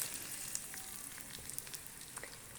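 Sliced onion frying in hot oil in a home kitchen pan, a steady, dense sizzle with small pops and crackles throughout, close and even in level with no voices.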